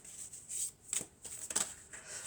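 Oracle cards being shuffled by hand, a quiet, close flutter of cards in a few short riffling bursts.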